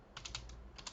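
Fingers tap on a computer keyboard while code is written, a quick cluster of soft, close keystrokes followed by a brief pause and two more taps, faint against a low room hum.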